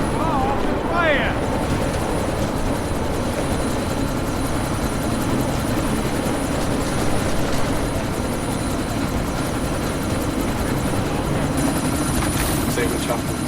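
Helicopter in the video game Deus Ex: Mankind Divided, a loud, steady rotor and engine drone filling the whole stretch with a brief chirp near the start, while voices talk over it.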